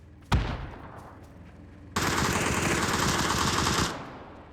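Video game gunfire: a sharp gunshot cracks, followed after a pause by about two seconds of loud, sustained automatic fire that cuts off abruptly.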